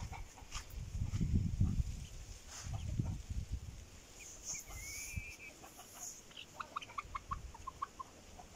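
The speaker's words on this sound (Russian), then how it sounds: "Курей он тут породистых держит. Видите, какая курица." Pedigree hens cluck on a village farmstead, with a few soft clucks and short calls over low rumbling handling noise, fairly close and moderately loud, ending in a run of quick higher clucks.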